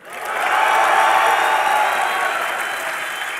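A crowd at a Dreamhack League of Legends esports semi-final applauds and cheers loudly, a sustained wash of clapping and shouts that swells within the first half-second and then holds steady.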